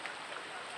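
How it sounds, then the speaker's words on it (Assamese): Steady rain falls outdoors while cattle are being bathed, a soft even hiss with no separate drops standing out, continuous through the whole brief moment. "আৰু বৰষুণ দিছে"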